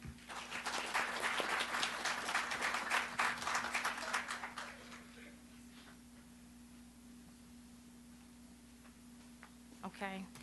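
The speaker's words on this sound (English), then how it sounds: "I really would like for y'all to give a warm round of applause for Miss Alicia Teague" A small class audience at a diabetes education session claps warmly for a woman for about five seconds, then the applause thins out into quiet room tone, with a faint voice near the end.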